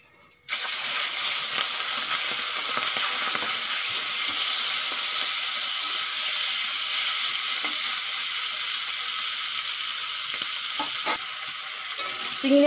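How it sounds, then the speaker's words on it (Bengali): Turmeric-, salt- and chili-coated prawns drop into hot oil in a wok and sizzle loudly and continuously, a dense, steady frying hiss that starts abruptly after a short quiet moment. "তেল গরম হয়ে গেছে, এখন আমি চিংড়ি মাছগুলো ভেজে নেব।"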